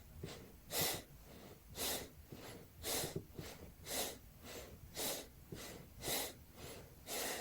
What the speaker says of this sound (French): Allons-y, inspirons et expirons.